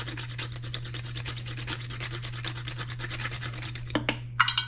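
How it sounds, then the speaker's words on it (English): Nutmeg rubbed against a grater for homemade ginger beer, a steady rapid rasping scrape repeated for several seconds, close and fairly quiet over a low constant hum, ending with a few brief knocks. "And now I'm grating the nutmeg in there."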